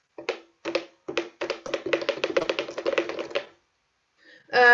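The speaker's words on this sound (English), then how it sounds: "clicks of the keys on accordion" Accordion keys clicked as a percussive effect in a contemporary chamber piece, a rapid irregular run of dry mechanical taps, loud and close, followed by a short burst of sustained reed tone at the end.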